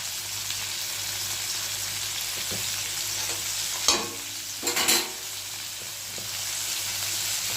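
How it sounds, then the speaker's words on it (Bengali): Mixed vegetables sautéed in a pan, a steady close hiss of frying with a few sharp clattering stirs partway through. "সবজিটা কিন্তু খুব সুন্দর করে আমি কষিয়ে নিয়েছি"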